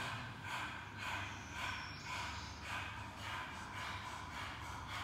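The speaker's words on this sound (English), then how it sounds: "really pump your navel, strongly breath of fire through the open mouth" Breath of fire in a Kundalini yoga practice, rapid forceful breathing through the open mouth with the tongue stuck out, a steady run of rhythmic huffing pulses, close and continuous, with no talking.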